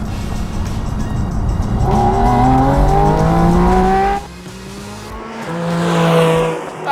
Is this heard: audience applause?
no